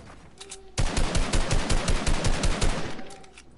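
Rapid automatic gunfire in a video game, a loud sustained burst of evenly spaced shots that starts abruptly after a quiet lead-in and runs for nearly three seconds before stopping.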